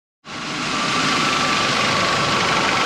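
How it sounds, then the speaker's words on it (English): A Hyundai Elantra engine idles with the AC compressor and cooling fan running, switching on abruptly into a steady broadband whirring hum that holds constant and loud, with no talk. "our clutch there and our compressor is working, turning on, right? It's on. Our cooling fan is on there"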